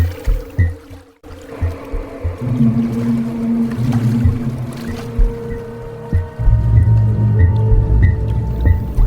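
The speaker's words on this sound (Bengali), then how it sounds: "নৌকা চালিয়ে সেদিকেই চলতে লাগলো সে" A boat being rowed on a river at night, with rhythmic watery paddle strokes and low knocking against the hull over a steady murmur, growing louder toward the end.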